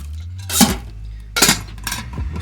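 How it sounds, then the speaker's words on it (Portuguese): Metal camping cookware from a Blackdeer four-in-one set clatters and clinks as pots, lids and a strainer are handled, with sharp bright knocks in two bursts and no talk. "Também pode usar o escorredor para evaporar água"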